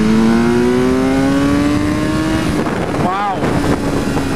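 A 2014 BMW S1000R motorcycle accelerating hard in third gear, its loud engine note climbing steadily in pitch with heavy wind rush, then briefly dipping before pulling again, recorded close from the rider's position.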